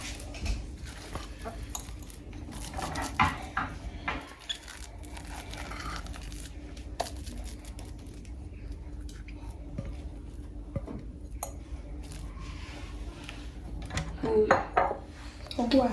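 Whipping cream and cheese being combined in a bowl for a no-bake cheesecake, with irregular clinks and scrapes of a utensil against the bowl, wet squishing, and a brief faint voice.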